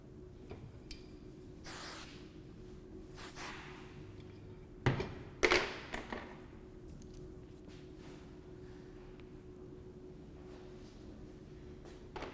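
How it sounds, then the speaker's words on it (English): Hairspray hisses onto hair while a high classic bridal bun is teased, in a few short, separate bursts, one louder than the rest, with soft handling noises between them. "try putting a little hairspray in the hair first and then teasing again so that it'll actually hold"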